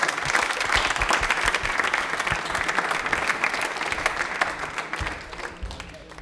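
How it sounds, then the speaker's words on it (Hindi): Studio audience applause on a Rajasthani television quiz show, a dense, loud wash of clapping that holds steady and then tapers off near the end. "ताली एक बार जोरदार बजा दो"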